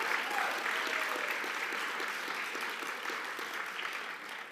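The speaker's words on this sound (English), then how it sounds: "So a round of applause to you for showing up for your teammates and supporting this" Audience applause at an HR achievement awards event, dense and steady, gradually tapering over a few seconds with a faint voice underneath.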